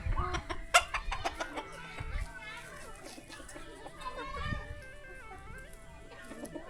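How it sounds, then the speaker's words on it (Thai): Village chickens cluck busily while feeding on rice, soft scattered calls at moderate distance, with people and children talking over them. "ไก่มันกินแช่วอยู่นี่"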